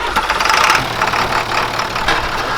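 A car engine, just fitted with a replacement alternator and running a straight-pipe exhaust, catches and runs in a loud, close, uneven rumble for a few seconds.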